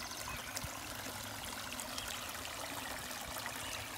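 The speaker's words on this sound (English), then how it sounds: "we got a nice little man-made waterfall" A small man-made waterfall in a Michigan creek, under a large dead tree, trickles with a constant soft splashing and rushing that stays even and fairly quiet throughout.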